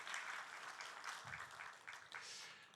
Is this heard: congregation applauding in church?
yes